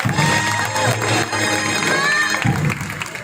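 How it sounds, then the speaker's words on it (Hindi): Theatre audience applauds and cheers for the Arts Council of Pakistan president at the Awami Theater Festival in Karachi, a steady crowd roar with whoops lasting the whole stretch, with a voice breaking through near the end. "आर्ट काउंसिल ऑफ पाकिस्तान के सदर जनाब मोहम्मद अहमद शाह के लिए भरपूर तालियां बजाएं।"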